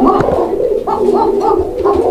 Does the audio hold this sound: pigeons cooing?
yes